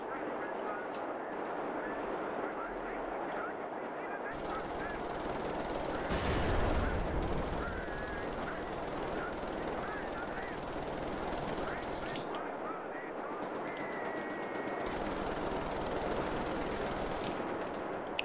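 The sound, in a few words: gun emplacement firing in the video game Wolfenstein The New Order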